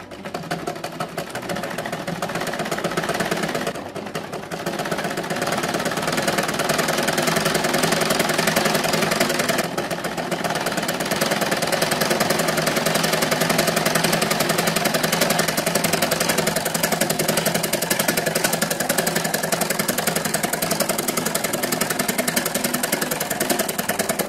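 A sewing machine stitching two school uniform skirt pieces together, a continuous, fast, rattling mechanical whir held close and loud for the whole stretch, with only brief dips, no talking.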